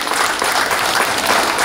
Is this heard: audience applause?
yes